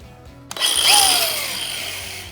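A power grinder spins up with a sharp start and a rising whine during a loft stair build, then runs loud and steady at close range before easing slightly, with no voices over it.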